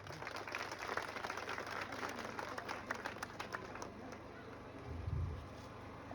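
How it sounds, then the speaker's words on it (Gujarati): Crowd clapping at an outdoor village gathering honouring paramilitary personnel from the BSF, CRPF and CISF, a fairly faint, steady patter of hands with murmuring voices and some low rumble underneath. "એક વખત કિરણભાઈ માટે પણ તાળીઓ હોવી જો."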